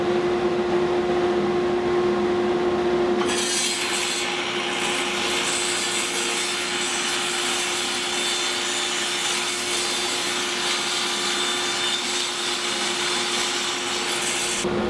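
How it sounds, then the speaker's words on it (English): A table saw running with a miter sled trims the overhanging corners off glued-on walnut strips, its motor humming steadily before a loud, sustained cut begins a few seconds in and continues to the end. "using a miter sled on my table saw, I then clipped off the overhanging corners from those glued on walnut strips"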